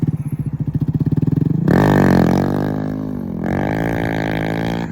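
Motorcycle engine revving hard during a wheelie attempt, starting with a rapid pulsing idle-like throb before surging into a loud sustained high rev that dips and climbs again, close and alone.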